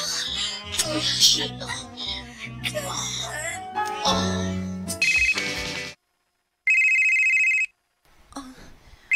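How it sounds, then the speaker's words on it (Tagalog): A cellphone rings with a steady electronic tone for about a second after a burst of music and talk, set in a Filipino household. "Ang cellphone ni Dandan nagsikikring."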